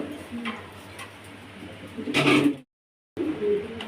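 Fancy pigeons kept for sale coo in low, rounded, repeated calls close by against a busy background, then go briefly silent before the cooing picks up again.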